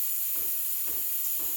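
A Breville Barista Express BES870 steam wand steams milk in a jug with a steady, loud high hiss, while three soft low gurgling pulses come from the milk at regular intervals.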